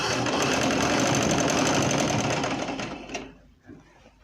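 A sewing machine stitches a trouser in a steady, loud, continuous run, then slows and stops near the end with a few brief mechanical clicks.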